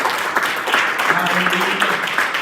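A church congregation clapping hands in praise during a worship service, steady dense clapping with voices calling out over it.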